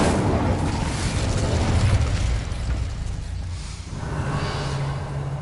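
An Incendio fire spell cast in Hogwarts Legacy bursts out with a loud, roaring whoosh of flame, fading briefly before a second surge of crackling fire.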